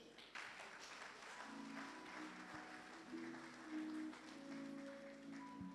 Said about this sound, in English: All right, keep clapping